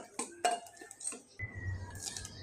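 Cauliflower pakora batter mixed with egg and water in a bowl, a few sharp clinks of a utensil against the dish, then a softer stirring scrape, quiet and close.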